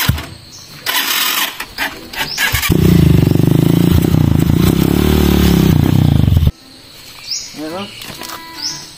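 A habal-habal motorcycle towing another motorcycle revs loudly and steadily for a few seconds, then cuts off abruptly, with clattering and scraping around it.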